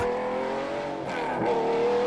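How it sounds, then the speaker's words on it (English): A 600-horsepower V12 Jaguar XJS race car roars along a circuit, its engine holding a loud, steady high-pitched whine that dips and climbs again as it shifts, with no talk. "XJS Jaguar of Mike Roddy and Douglas Burlock was getting a chance to let loose its 600 horsepower V12 engine."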